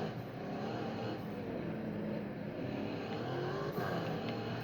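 A Porsche slides in a sustained drift in the Fix it Up video game, its engine droning steadily at moderate volume with a faint tire hiss, and no voices.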